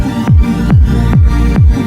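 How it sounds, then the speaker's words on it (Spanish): An electronic dance track pumps with a sidechain effect, the accompaniment ducking sharply on each of four steady, loud kick drum hits and swelling back between them, with no voice. "Este efecto de bombeo es una de las cosas más características de esta música."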